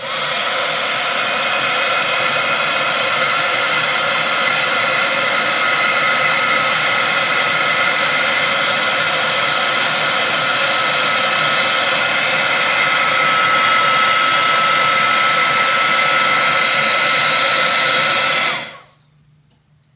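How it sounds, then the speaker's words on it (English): A plugged-in heat gun blows steadily and loudly for about eighteen seconds while shrinking heat-shrink tubing in an attic, a constant fan-and-air roar that stops abruptly near the end. "I plugged in my heat gun, so let's shrink this tube."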